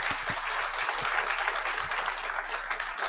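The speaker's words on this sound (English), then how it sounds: "Please give a round of applause for all of our guests" An audience applauds the evening's guests at a recipe show, a steady, fairly faint patter of many hands clapping continuously from a moderate distance, with a few low thumps underneath.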